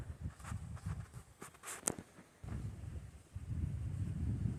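Wind gusts across a mountain summit beside the remnants of an old fire tower on the Appalachian Trail, a low, steady rumble buffeting the microphone with no voices.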